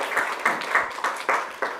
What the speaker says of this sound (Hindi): बिल्कुल सही उत्तर दिया है निकिता जी ने, ज़ोरदार तालियां।